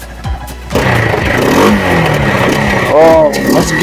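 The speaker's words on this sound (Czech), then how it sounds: "To je tady na čtyřkolce. Pojď, zaturuj to." A quad bike engine revs up at the start of a race alongside a buggy, a steady loud mid-pitched drone rising in pitch near the end, with people talking over it.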